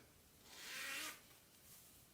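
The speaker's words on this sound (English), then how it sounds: "This is a zipper." A single quiet zip as the invisible zipper on a Spider-Man cosplay suit is pulled, a short soft rasp lasting about half a second against near silence.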